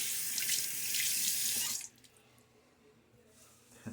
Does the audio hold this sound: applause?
no